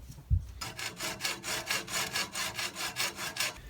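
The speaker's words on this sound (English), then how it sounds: "this profile here I find very difficult to cut with snips, so I use a hacksaw" A hacksaw cuts through a gutter guard profile in a home workshop, starting with a knock and then about a dozen steady, even back-and-forth rasping strokes, close and clear, with no voices.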